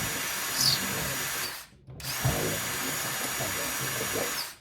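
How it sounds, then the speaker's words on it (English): A small electric drill whines steadily up close as it widens a hole in a drone part, stopping briefly for a moment before running again in a continuous high buzz. "take a little tiny electric drill and run it around in there to get that hole completely open."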